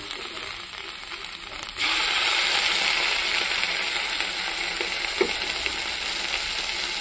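Spice paste is dropped into a hot pan for a patol curry and bursts into a sudden loud sizzle that keeps hissing steadily, with a small clink of the spoon partway through.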